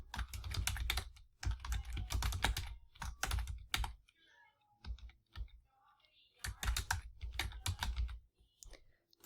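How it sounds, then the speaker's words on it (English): Bursts of rapid key clicks on a computer keyboard come in clusters separated by short pauses, fairly close and clear, with only faint stray sounds in the quieter gaps. "type in the guest email"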